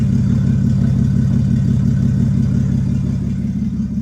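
A boosted Toyota Aristo engine runs while turning the wheels, giving a steady, low, throbbing drone with a rhythmic pulse that holds evenly throughout, close and fairly loud, with no talking.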